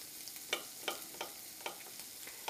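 Pancetta and thinly sliced baby sweet Yukon potatoes frying in a pan, a soft steady sizzle broken by several sharp scraping stirs at a regular pace.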